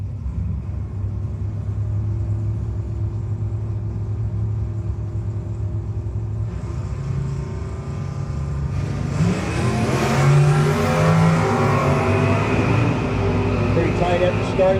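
Drag race cars at a no-box 660 shootout rumble and rev at the start line, then launch with a loud, rising roar that swells near the end, under an announcer's talk.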